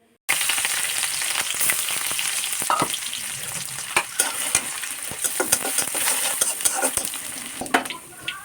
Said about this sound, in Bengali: ততক্ষণে আমি ভাতটা ভেজে নিব আর কি